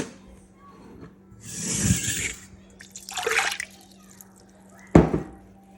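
Warm water poured for bread dough in a home kitchen, heard as a few short, soft splashing pours separated by quiet gaps, followed by a brief sharp splash.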